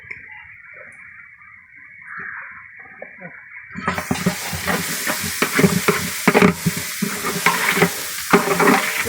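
After a quiet start, ginger and garlic hit hot oil and sizzle loudly, with stirring clatter and scraping against the pan, close up.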